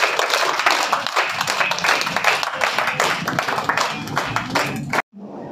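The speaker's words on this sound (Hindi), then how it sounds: "ज़ोरदार तालियों के साथ आप मैम का स्वागत करें।" A school audience claps loudly to welcome a guest presenter at an educational event, dense steady applause for about five seconds that cuts off abruptly.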